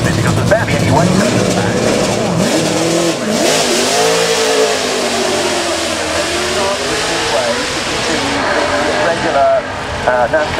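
NASCAR Craftsman Truck Series race truck, a 2008 championship winner, revving hard at the Goodwood Festival of Speed, loud and close with rising and falling engine sweeps under a commentator's talk and crowd noise.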